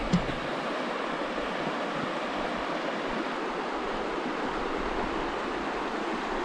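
A river in Australia's high country rushes steadily over rocks, a broad continuous wash of water close by with no voices, constant and even throughout.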